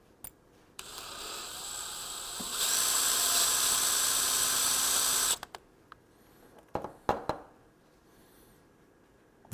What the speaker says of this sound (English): very gently drill into this little metering block